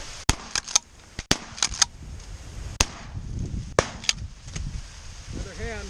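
Shotgun blasts fired at mallard ducks over a flooded cornfield: several sharp, loud reports in irregular succession, some close together and others spaced out, with brief outdoor echo and faint voices between shots.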